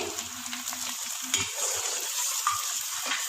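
Whole spices such as bay leaves, nutmeg, mace, star anise, black and green cardamom, cloves and cinnamon frying in oil in a pot for white biryani, a steady close sizzle with a few soft stirring scrapes.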